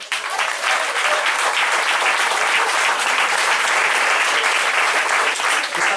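Sustained applause from a crowd at a church youth camp, dense and steady throughout, loud and close with no voices rising above it.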